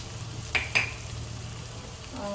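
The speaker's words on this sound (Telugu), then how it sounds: "కొరియాండర్ అదే ధనియాల పౌడరు, గరం మసాలా ఇవన్నీ వేసుకొని మంచిగా ఫ్రై చేసుకోవాలి" Ground spices, coriander powder, turmeric, cumin powder and garam masala frying in a pan for fish biryani, a low steady sizzle with two brief clinks of a utensil against the pan.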